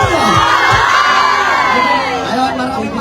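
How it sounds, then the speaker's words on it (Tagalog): A crowd at a Filipino festival band concert in Kobe cheers and shouts loudly, with whoops and high children's yells rising over a continuous roar. "Isang hiyawan"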